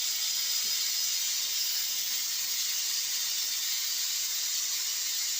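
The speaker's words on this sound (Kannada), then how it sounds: "3 ವಿಸಿಲ್ ಕುಕ್ಕರ್ ಹೊಡೆದ ನಂತರ ಗ್ಯಾಸನ್ನು ಆಫ್ ಮಾಡಬೇಕು" A pressure cooker whistle releases steam while veg palav of washed rice and dal cooks, a continuous loud, steady hiss running unbroken throughout with no voices.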